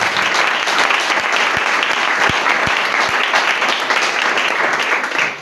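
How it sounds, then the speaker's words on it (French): Church congregation at a Sunday service applauding loudly and continuously, a dense, close burst of clapping that fades slightly at the end. "Acclame maintenant pour Dieu."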